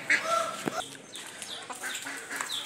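A desi rooster and hens cluck and call outdoors, a few short squawks standing out over a busy background of birdsong and farmyard noise.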